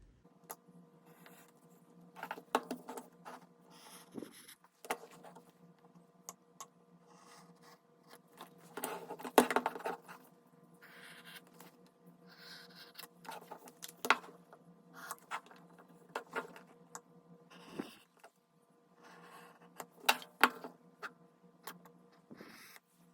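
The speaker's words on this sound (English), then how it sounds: "I went ahead and beveled these edges real quick" Short scraping strokes of an edge beveler shave a leather edge in quiet bursts with pauses between, close and fairly soft; no talk.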